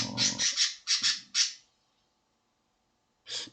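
Birds kept indoors in a room shaded from light squawk and chatter in a quick cluster of loud, close, raspy calls, then fall silent before one more burst at the end.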